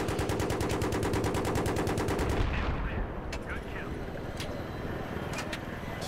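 Rapid automatic gunfire in the Battlefield 3 video game, a loud, steady stream of shots for about two and a half seconds, then sporadic distant booms and rattles.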